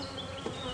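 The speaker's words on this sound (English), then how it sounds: "There's about 5-6 frames of bees in the super." Honey bees buzz steadily inside a hive super holding five or six frames, a dense, close, continuous hum with no voices over it.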